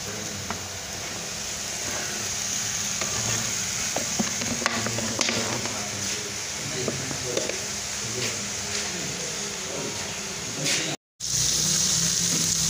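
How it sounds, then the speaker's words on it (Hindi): Sliced onions frying in a quarter kilo of ghee in a cooking pot, a steady close sizzle with scattered clicks and stirring knocks, interrupted by a brief silent gap near the end. "प्याज को अच्छी तरह ब्राउन करेंगे"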